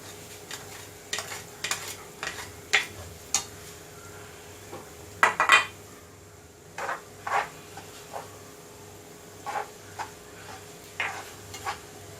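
Four onions cook with salt in two spoons of oil in a home kitchen pan, a low sizzle under sharp, sporadic metallic scrapes and clinks of a spoon stirring against the pan.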